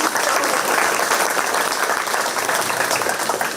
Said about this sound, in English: Let's give our bakers a nice big round of applause one more time.